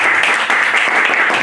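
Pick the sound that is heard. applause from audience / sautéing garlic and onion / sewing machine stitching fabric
applause from audience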